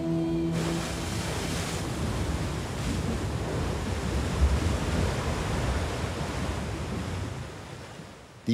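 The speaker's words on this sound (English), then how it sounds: "Khone Phapheng in the extreme south of Laos are the largest waterfalls of Southeast Asia" Roar of the Khone Phapheng waterfalls on the Mekong River in southern Laos, the largest falls in Southeast Asia: a steady, loud, broadband wash of crashing water that fills the whole stretch without pause, easing slightly near the end.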